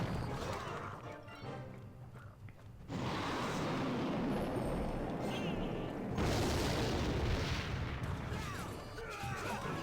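Rocket spell explosions in the Clash Royale mobile game, heavy booming crashes that hit abruptly near the three and six second marks, loud and dense over layered game music and effects.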